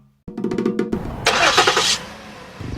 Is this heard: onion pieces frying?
no